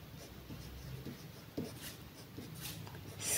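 Pen writing math on paper, a quiet scratching that runs faint and steady for a few seconds with a couple of slightly firmer strokes, no voice.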